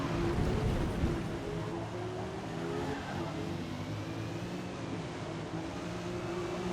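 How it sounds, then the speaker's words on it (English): A 1975 BMW 3.0 CSL race car in Forza Motorsport at Catalunya drones steadily as it downshifts to second, its engine note dipping and rising under faint tire noise, loud and continuous throughout. "BMW did not like that downshift to second"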